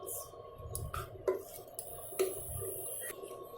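Green chili sauce being stirred in a pan for a fish chilli starter, with a metal spoon or spatula scraping and clinking softly against the pan in a steady rhythm and two sharper taps.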